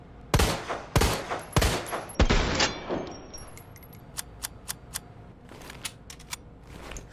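The JMB Hp3 handgun in the Resident Evil 2 Remake fires four sharp, loud shots in quick succession, then metallic reload clicks and a string of faint, evenly spaced clicks follow.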